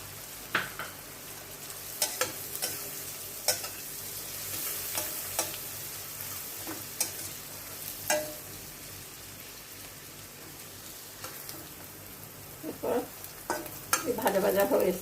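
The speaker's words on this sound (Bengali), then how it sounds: "পেঁয়াজ আর লঙ্কা আমি একসঙ্গে ভাজবো" Onions and chillies frying together in a pan for homestyle chilli chicken, a steady low sizzle with scattered sharp crackles and pops throughout, louder bursts near the end as the mixture is stirred.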